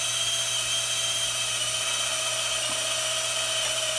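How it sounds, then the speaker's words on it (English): A screw gun runs a screw jack pulley drive on a homemade cherry picker, producing a continuous high whine with a steady motor hum beneath it, close and unbroken throughout. "a pulley drive that operates off of a screw gun"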